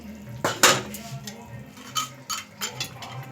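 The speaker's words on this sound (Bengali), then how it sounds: "সবজিগুলো সেদ্ধ হয়ে গেছে ওটা দিয়ে দেবো ভেজে রাখা বড়ি" Fried lentil dumplings (bori) dropped into a pot of boiled vegetables, giving a few close clinks and scrapes of a utensil against cookware, with a louder clatter early on and lighter taps after.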